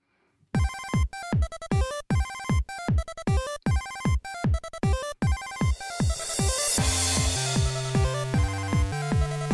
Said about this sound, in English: Can someone pick up the Pixel phone?